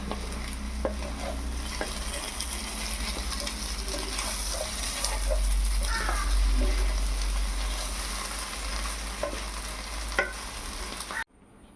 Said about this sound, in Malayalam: കുറച്ച് കറിവേപ്പിലയും കൂടി ചേർത്ത് നന്നായി ഇളക്കിയെടുക്കുക